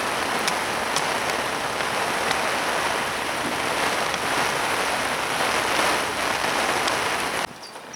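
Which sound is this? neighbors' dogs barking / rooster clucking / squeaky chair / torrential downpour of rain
torrential downpour of rain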